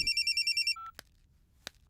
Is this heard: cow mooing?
no